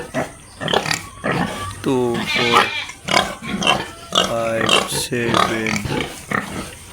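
Large White piglets in a backyard pig farm litter squeal and grunt repeatedly at close range, loud and busy, while a person talks over them counting.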